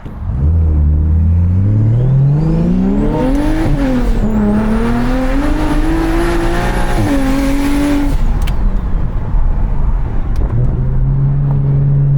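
A single-turbo BMW 335is engine revs hard and loud from close range, climbing through the gears with rising and falling pitch, a turbo whine above it, then drops back to a steady lower drone.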